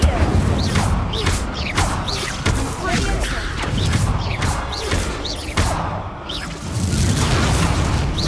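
Confringo and Incendio fire spells cast repeatedly in Hogwarts Legacy, a series of whooshing bursts and fiery thumps in quick rhythm amid battle noise, loud and close.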